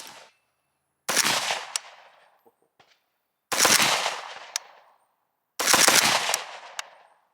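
An AK rifle chambered in 5.56/.223, fired unsuppressed with its muzzle brake open, lets off three sharp, loud shots spaced a few seconds apart. Each crack carries a bright blast and a short echoing tail.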